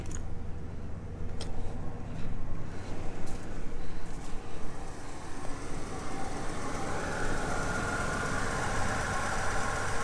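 A small engine, throttle stuck, runs steadily after being filled with sand and water, with a rough, rattling drone that stays fairly even throughout, close by.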